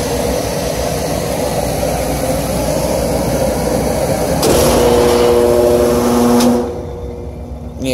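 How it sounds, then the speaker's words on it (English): A big heater with a bad blower motor roars steadily and loudly, then shifts to a harsher tone partway through before dropping to a quieter hum. "Got a bad blower motor."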